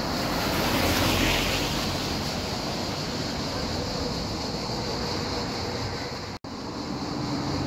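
Swollen small river after a flood, rushing loudly with a steady, broadband roar of churning water close by, continuous throughout with a brief dropout near the end.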